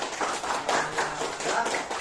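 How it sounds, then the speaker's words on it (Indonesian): A short burst of classroom applause for a classmate, a small group of students clapping nearby in uneven rhythm for about two seconds. "Kita kasih tepuk tangan untuk kawannya."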